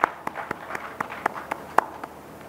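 Rhythmic, evenly spaced claps from a small audience welcoming a guest at a gathering on organic farming, moderately loud and steady with no talk over them.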